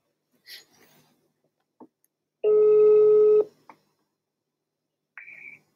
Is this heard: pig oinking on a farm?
no